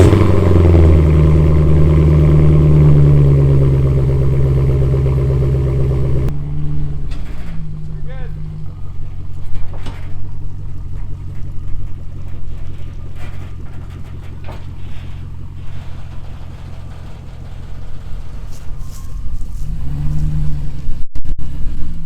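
A Jeep Grand Cherokee WJ Overland is driven off a U-Haul trailer, its engine rumbling loudly and then dropping to a lower idle, with clunks and clatter from the trailer and someone talking at times.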